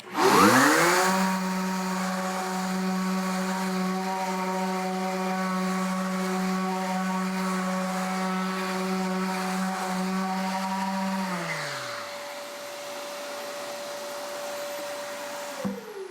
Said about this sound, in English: all it'll take is a little 220 sandpaper on my random orbital sander, and that'll solve the problem